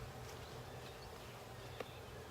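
Honeybees from a newly installed package hum faintly inside a hive, a low steady buzz beneath quiet background noise with no talking.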